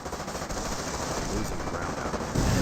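Sustained gunfire from a World War II battle in the Company of Heroes 1 real-time strategy game, a dense unbroken clatter of automatic weapons with a louder burst near the end.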